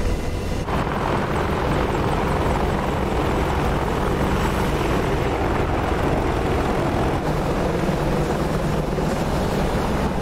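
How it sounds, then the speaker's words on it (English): Military helicopters flying and setting down in sand during a DCS World reenactment of a 2007 Afghanistan battle, a loud, steady rotor and turbine drone that fills the whole stretch without talk. "Simba and Bird, make sure you land your helicopters properly without crashing"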